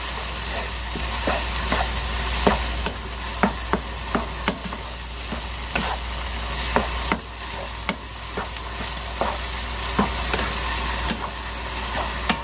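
Chicken keema sizzles steadily as it fries in a pan, with a spatula scraping and stirring in a repeated rhythm of sharp clicks close by; no one speaks.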